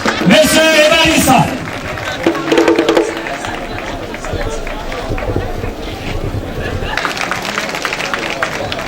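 A political rally crowd of RHDP supporters applauding and cheering loudly at first, then settling into a broad murmur of chatter and scattered clapping, with voices mixed throughout.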